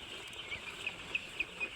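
Twelve-day-old colour bird broiler chickens on a farm give soft, repeated clucks and short chirps at a moderate distance over a low background hum.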